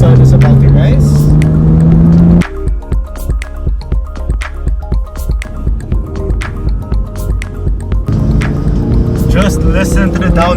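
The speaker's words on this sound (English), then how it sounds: "Just listen to the downshifts of this Lambo." A Lamborghini supercar on a mountain road: engine note climbs, then a run of sharp, stepped blips and crackles as it downshifts, before it revs up again. Loud and close, with no talk.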